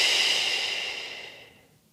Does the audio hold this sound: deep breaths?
yes